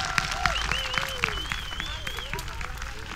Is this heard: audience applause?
yes